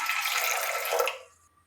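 Running water splashes over vegetables being washed, close and steady for about a second before cutting off into quiet.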